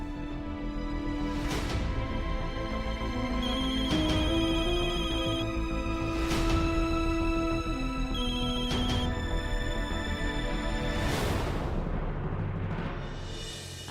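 A telephone rings in a Hindi TV serial scene, a melodic ringtone with stepped tones repeating for about fourteen seconds, loud and close, punctuated by sharp percussive hits from the soundtrack.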